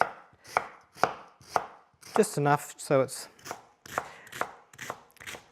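A kitchen knife dices vegetables for a balti on a board in quick, rhythmic chops, close and crisp, while a voice talks over the cutting.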